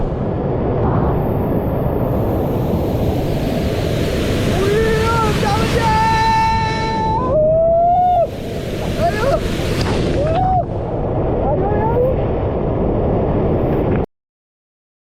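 Water flowing at Aruvikuzhi waterfall in Pathanamthitta gives a steady, full rushing roar throughout, with a few brief tonal calls or voices rising above it before it cuts off near the end.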